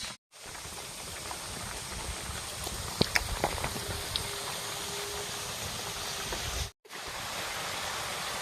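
Egg katkati sweets drop into hot oil and set off a loud, continuous bubbling hiss with a few sharp crackles in the middle, broken by two brief silent gaps.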